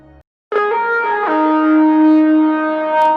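A motorboat engine roars steadily at wide-open throttle around 46 to 48 mph, loud and close, with a constant droning hum and wind-like rush.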